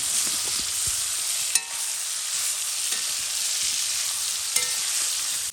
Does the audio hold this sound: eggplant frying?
yes